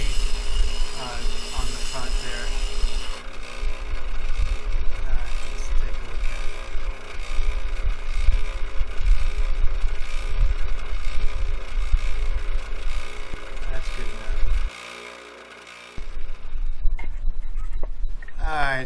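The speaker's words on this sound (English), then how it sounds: "I'm grinding this with an 8-degree release." A cutting bit being ground to an 8-degree relief angle on a grinder while making a small ratchet wheel, giving a steady, loud grinding drone that breaks off briefly near the end and then resumes.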